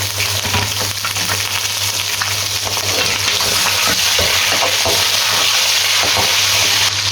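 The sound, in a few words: chicken frying with browned onions in pot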